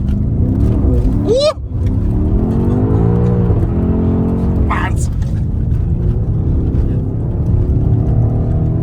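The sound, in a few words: BMW X6M engine revving with exhaust and turbo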